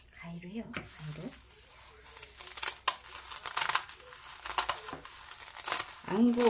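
Crisp crinkling and snipping of dry seaweed (gim) sheets being cut with scissors nearby, with someone talking over the cutting.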